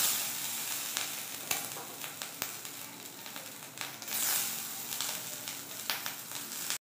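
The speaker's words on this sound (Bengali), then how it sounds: "এবার এর মধ্যে একে একে সিদ্ধ করে রাখা গাজরগুলো দিয়ে দিচ্ছি।" Boiled carrots dropped one by one into a little hot oil in a pan sizzle softly and steadily, with scattered light clicks and a brief louder surge midway, no voices.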